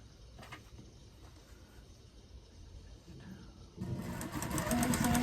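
Sewing machine stitching a quarter-inch seam in Kona cotton solid fabric, a low steady mechanical whir that starts quietly and swells louder and busier in the last second and a half, with no talking.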